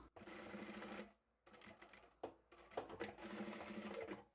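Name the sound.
sewing machine stitching handbag handle ends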